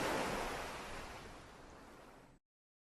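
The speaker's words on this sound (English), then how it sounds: "the sound of the ebbing and flowing water moves around naturally and sounds amazing" Ocean waves wash onto a shoreline in the game Towers of Aghasba, a dense, steady surf roar that slowly eases before cutting off abruptly.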